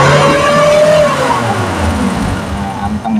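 A Suzuki Carry 1.0 engine with a corroded cylinder head revs under throttle nearby, its pitch rising and falling loudly, with a voice talking over it.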